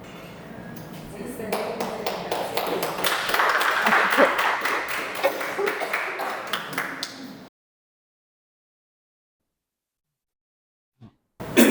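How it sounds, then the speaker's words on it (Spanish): Clapping from a group at a talk on intellectual disability, a run of distinct, fairly close claps for about seven seconds, then an abrupt cut to silence with a couple of faint knocks near the end. "Para eso le dimos aplauso aquí"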